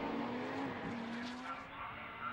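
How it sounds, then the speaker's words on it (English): Lotus Elise S1 race cars with supercharged Honda engines race at Brands Hatch, heading down to Graham Hill Bend. A loud, steady engine note rises slightly under wide, dense track noise, with no pause in the sound. "The supercharged Honda engine, Elise S1, leading the race there."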